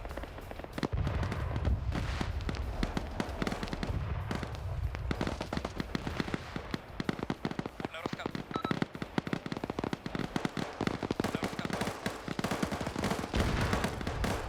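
Soldiers in a video game fire rapid, dense bursts of gunfire, crackling shots overlapping continuously at mid distance, with a voice talking over the shooting.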